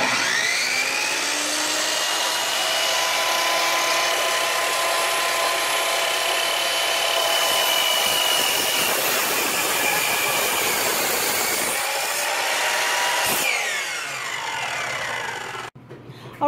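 A power saw cuts through several cedar planks stacked together, a sustained loud whine that holds steady for a long stretch before tapering off and stopping near the end.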